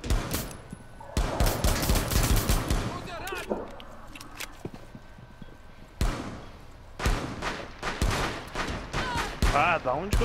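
Gunfire in the tactical shooter Rainbow Six Siege: sharp, loud bursts of shots come in clusters with quieter gaps between them, while players talk over the action.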